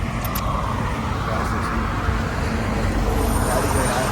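Traffic rushing downhill on a mountain ghat road with hot tyres, a steady loud roar of passing vehicle engines and tyre noise, with a voice talking over it.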